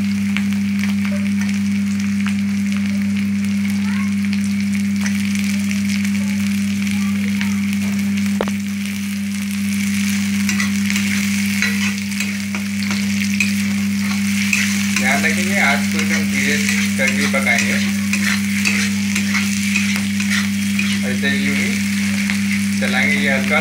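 Chopped capsicum fries in hot oil for a spring roll filling, a loud continuous close sizzle with a steady low hum underneath and occasional spatula scrapes and crackles building toward the end.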